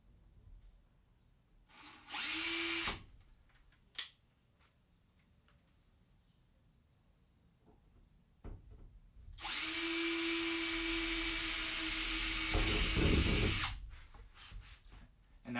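A power drill whirs in two bursts while drilling a pilot hole in a Sprinter van wall, a short one and then a longer sustained run, with quiet handling noises and clicks in between.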